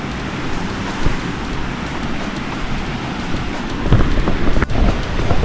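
Waterfall on the Waghbil trek near Badlapur, swollen after rain, gives a steady broadband rush of falling and flowing water, near and continuous, growing a little louder toward the end.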